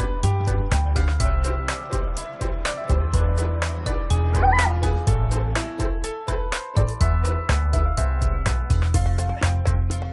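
Dog barking at an outdoor pitbull weight-pull race in Sofia, Bulgaria, loud repeated yips and barks recurring through the clip over crowd noise and music, with some speech mixed in.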